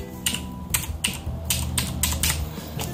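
Close, steady clicking of computer keyboard keys as an account number is typed in, quick bursts of keystrokes in an uneven rhythm, with no talking.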